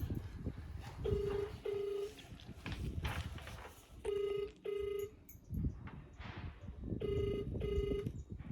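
A phone call being dialed on a keypad: short paired touch-tone beeps come in three quick groups, clear and fairly close, over a low background hum with no talking.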